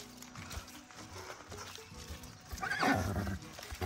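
A stallion neighs loudly near the end of the clip, a shrill whinny that falls in pitch, after quieter snorts and shuffling hoof sounds on a horse breeding farm.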